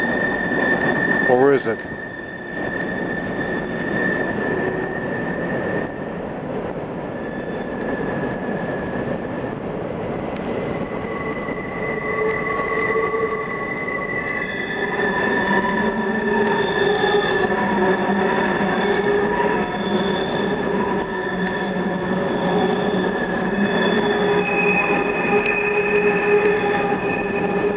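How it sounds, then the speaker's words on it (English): Three southbound CSX freight trains roll past on the line, a steady loud rumble with long, sustained high-pitched wheel squeals layered over it; a person speaks briefly near the start. "Three southbound freights in a row on the CSX line."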